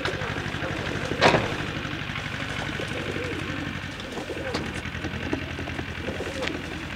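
Young racing pigeons coo in a loft, a steady low rhythmic cooing running throughout with a brief louder flutter or clatter near the start, and a faint engine-like hum underneath.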